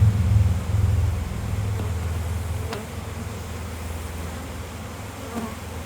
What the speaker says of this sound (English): Oh, I just dumped a bunch of bees off this frame.